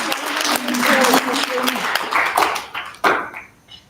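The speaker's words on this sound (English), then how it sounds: "Hand of applause for Lesotho." Conference audience applauding in a hall, a dense burst of clapping that thins and tapers off over a few seconds, with voices mixed in.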